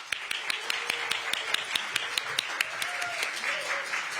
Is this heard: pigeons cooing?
no